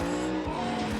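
A professional drift car at Queensland Raceway roars close by at full throttle, its engine note sweeping with tyre squeal, one continuous loud burst with no voices.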